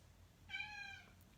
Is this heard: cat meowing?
yes